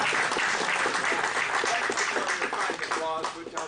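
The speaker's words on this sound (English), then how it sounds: "Applause, which I so richly deserve but seldom receive" Lecture audience giving sustained applause, a dense steady clatter of many hands that tapers near the end, with faint voices mixed in.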